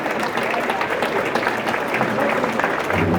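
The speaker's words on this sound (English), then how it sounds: "a round of applause." A round of applause at a brunch honoring the NYC St. Patrick's Day Parade grand marshal and aides, a short dense burst of clapping from a roomful of guests.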